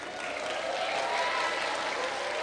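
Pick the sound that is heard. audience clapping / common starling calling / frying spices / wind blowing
audience clapping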